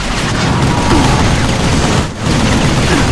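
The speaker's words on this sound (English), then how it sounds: "looks like it just blew up like a dozen guys with that one grenade" Grenade blasts and gunfire in the video game Vanquish, a dense, continuous roar of explosions and rapid shots with barely a brief dip, loud and close throughout.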